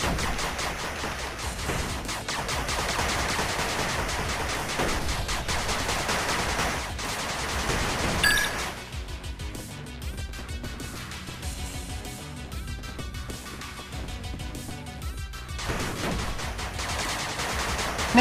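Dense, continuous machine gun fire rattles from a turret under attack in the 8-Bit Armies strategy game, steady rapid bursts layered with battle noise throughout.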